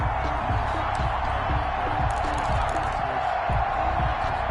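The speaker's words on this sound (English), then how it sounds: "How about some applause for the defense there?" A large football stadium crowd roars and cheers continuously after a defensive stop forces 4th down, a dense wash of noise with faint voices and whoops mixed in.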